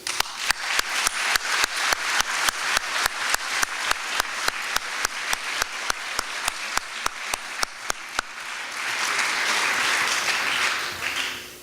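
An audience at a distinguished alumni ceremony applauds to welcome the honorees with steady, loud, rhythmic clapping in a hall. A sharp, regular clapping pattern runs for about eight seconds and then gives way to a broader wash of applause.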